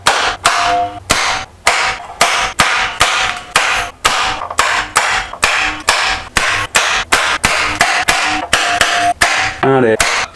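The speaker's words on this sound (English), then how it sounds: "I just went around this panel and I did a little tappy-tappy on most of the spot welds." A hammer strikes the spot welds of a wrecked Nissan Skyline R32 body panel in a steady run of about twenty sharp, loud metallic whacks. The blows fall roughly every half second and are close up, with a brief scrape at the end.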